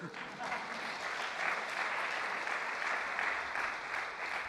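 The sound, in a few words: audience applause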